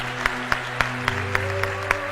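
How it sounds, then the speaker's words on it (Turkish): Slow, evenly spaced claps ring out at a steady beat, about seven in two seconds, in a hall with a low background hum. "Ben de seni alkışlıyorum."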